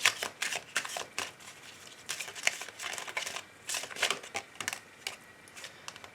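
Oracle cards for a tarot reading being shuffled by hand, with rapid crisp flicking and riffling bursts in quick irregular clusters, close and fairly quiet, no talking.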